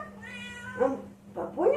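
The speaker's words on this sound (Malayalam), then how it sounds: "വലിയ പൂച്ച ഒന്ന് കടിക്കുക പപ്പൂനെ" A cat meows twice, close and clear, over a quiet background hum.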